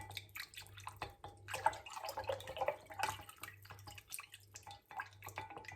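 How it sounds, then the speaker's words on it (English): A honey stirrer swirls through salt brine in a jar, producing soft, quiet sloshing and dripping with small clinks in an irregular rhythm, close and without talk. "I actually like to use a honey stirrer, believe it or not. So I'll give that a really good stir around, making sure all the salt's dissolved."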